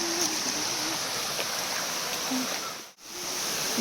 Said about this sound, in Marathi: देवळे धबधबा आणि हा परशुरामवाडीचा धबधबा. इथे आज आम्ही आलोय.